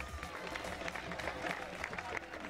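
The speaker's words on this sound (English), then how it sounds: "Let's give them a great big round of applause." Parade crowd giving a big round of applause outdoors at a Unity Day parade, a continuous wash of many hands clapping with crowd noise and some voices mixed in, steady throughout.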